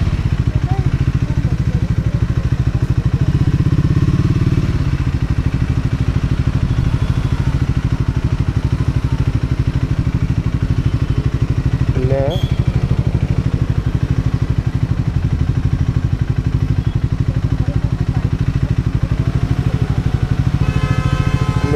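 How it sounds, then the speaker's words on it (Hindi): A Triumph Scrambler 400 X motorcycle drones steadily and loudly throughout as it is ridden hard at high revs, with a continuous engine roar and wind rush and a brief clatter midway. "उसके लिए मेरे को इस बाइक को ओवर द लिमिट पुश करना पड़ेगा"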